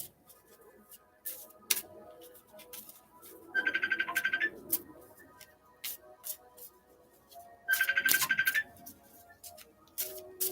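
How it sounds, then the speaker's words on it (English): A mobile phone ringtone sounds indoors in two separate bursts a few seconds apart, each a bright, rapidly repeating chime, with scattered clicks and room noise between them. "My phone is ringing."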